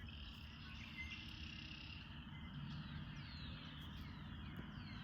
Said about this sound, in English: Here in nature, the birds. Again. Frogs, crickets.